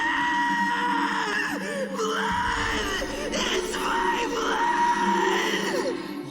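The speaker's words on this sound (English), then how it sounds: "the scene when Gaara is stabbed by Sasuke's Chidori and he screams at the top of his lungs" In a Naruto anime scene, a character stabbed by a Chidori lets out loud, drawn-out, wavering screams and anguished cries, layered over a dramatic background score.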